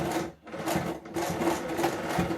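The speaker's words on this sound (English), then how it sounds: "Then you start sewing the right side facing right side." A sewing machine runs steadily, stitching bias trim to the sleeve of a cold-shoulder blouse, right sides facing. The motor drones loud and near with one brief pause.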